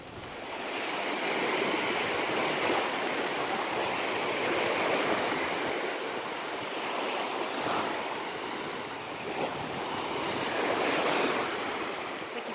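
Choppy Lake Superior surf washes steadily onto the sandy beach at Pancake Bay, a continuous roar of breaking waves with gusting wind noise over the microphone and no voices.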